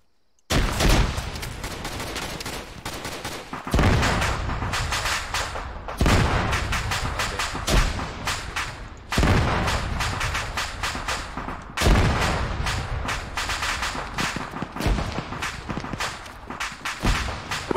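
Gunfire in a military shooter video game: repeated loud bursts of rifle shots in clusters every few seconds, sharp cracks echoing with reverberant tails, close and dominant, with no talk over them.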